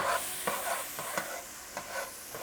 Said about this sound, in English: we're gonna add our onions and our garlic here. And we're gonna cook it for about 3 to 4 minutes